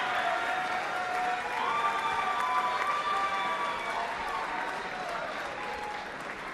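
A boxing arena crowd applauds and murmurs at the end of a heavyweight bout, a continuous roar of distant clapping with an announcer's amplified voice ringing over it.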